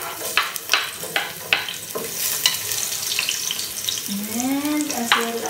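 Garlic and red onion sizzle and crackle in a hot pan while being stirred. Sharp scraping taps from the utensil land every half second or so at first, with a brief whistling tone partway through.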